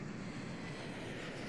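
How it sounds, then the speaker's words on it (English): A Rolls-Royce RB211 jet engine on a Boeing 757 gives a steady, loud, broadband roar that holds constant throughout, with no voices. "the RB211 series, seen here on the Boeing 757"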